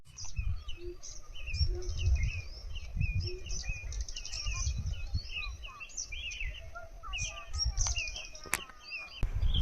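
Many small birds chirp and tweet in quick, overlapping calls at moderate distance at sunrise in Dapoli, over a low background rumble, with a couple of sharp clicks near the end.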